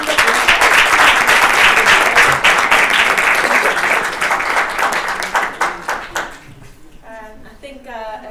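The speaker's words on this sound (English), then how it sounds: "can we give them another round of applause?" Audience applause for a panel of writers, a loud, dense round of clapping that thins into scattered individual claps and dies away before a voice begins talking.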